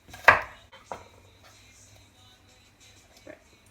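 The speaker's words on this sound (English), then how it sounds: "So just going to cut that into pieces so that's easier for the blender to" A knife chops fresh mint and coriander into pieces on a board: two distinct close thuds followed by a few faint softer cuts against a quiet background.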